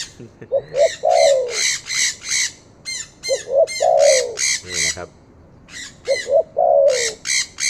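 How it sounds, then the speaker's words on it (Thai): A parrot gives repeated loud, harsh squawks alongside the soft cooing of a turtle dove, both close by and in alternating bursts. Someone speaks briefly between the calls. "ฟังนกแก้วไปด้วยครับ แล้วก็ ฟังนกเขาไปด้วยครับ"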